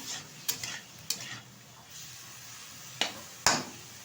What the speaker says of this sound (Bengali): নেড়ে ঝেড়ে সময় নিয়ে একটু ভেজে নেব